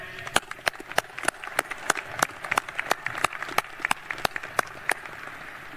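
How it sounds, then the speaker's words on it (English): Scattered, sparse clapping at a graduation ceremony, with a few loud individual claps standing out over a softer background of hands and faint crowd murmur. "a round of applause to our guests."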